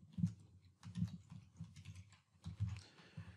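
A cluster name typed on a computer keyboard: quiet, close keystrokes in short irregular bursts with brief pauses between them, and no speech.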